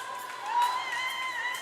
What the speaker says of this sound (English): And cheering from the fans.